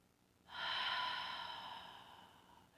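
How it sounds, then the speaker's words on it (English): One deep, slow exhale out through the mouth during a guided meditation, a soft breathy rush that starts suddenly and fades gradually over about two seconds. "I'm breathing out through the mouth"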